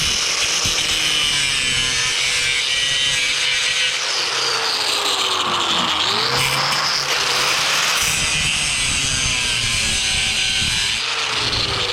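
Power cutting tool slicing through the sheet-metal corner of a Jeep Cherokee XJ fender during trimming, a loud continuous grinding rasp for about twelve seconds with pitch dips as the blade loads and frees up, no talk.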